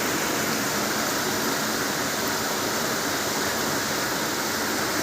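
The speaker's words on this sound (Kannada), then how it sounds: "ತುಂಬಾ ಜಾಸ್ತಿ ಮಳೆ ಬೀಳ್ತಿದೆ" Heavy rain with strong wind in Ankola, a steady dense roar of pouring water that stays loud and unbroken throughout, with no voices.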